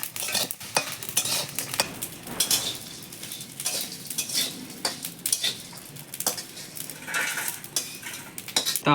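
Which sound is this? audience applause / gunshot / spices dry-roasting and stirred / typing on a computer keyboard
spices dry-roasting and stirred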